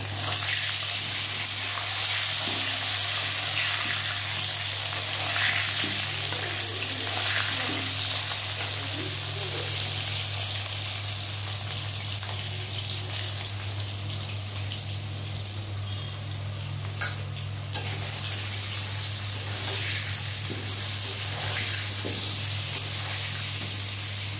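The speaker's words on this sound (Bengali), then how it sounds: "মাটন, মাছের আলু ভাজা হচ্ছে।" Potatoes fry with mutton and fish in a home kitchen, giving a steady close sizzle and crackle that runs without letup, with a low constant hum beneath and a few faint clinks.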